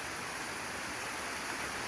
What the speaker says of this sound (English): Not really much of a significant waterfall, just sort of a series of little cascades, but quite pretty.